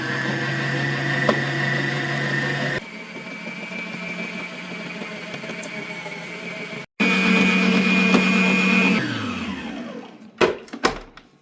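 Electric hand mixer whipping butter and sugar for cupcakes, a steady whirring motor drone that shifts pitch as the speed changes, then cuts off near the end with a few bumps and clatters.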